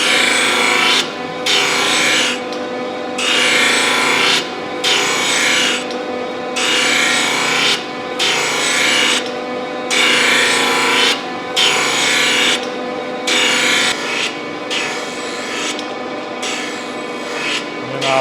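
A surface grinder wheel passes repeatedly across a workpiece held on a magnetic chuck, giving a harsh grinding rasp in regular bursts with short pauses between passes, loud and close.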